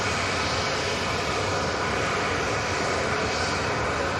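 Ryanair jet arriving at Manchester Airport, its engine roar loud and steady throughout as a broad, continuous wash of noise.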